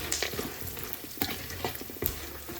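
Cashews fry in a pan with a constant close sizzle, broken by several sharp spoon scrapes and clinks against the metal as they are stirred. No one speaks.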